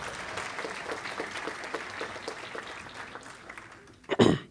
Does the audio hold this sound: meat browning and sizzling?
no